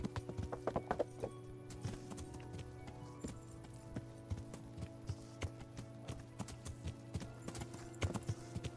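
Horse hooves clip-clop steadily in Kingdom Come: Deliverance, a rhythmic run of close, distinct hoofbeats over a constant low in-game ambience, with no talking.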